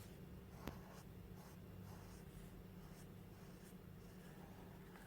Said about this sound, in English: This is regular a felt pen